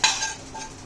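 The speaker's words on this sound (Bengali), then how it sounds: "এবার কোফতাটা মিশিয়ে দিচ্ছি" A spoon scrapes and stirs ridge gourd with paneer kofta in a cooking pan, a brief metallic clink up front followed by soft stirring with a faint sizzle underneath.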